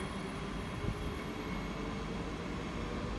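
A train bound for Zurich pulls out of St. Gallen railway station, a steady low rumble with a faint high whine, continuous and moderately distant with no voices over it.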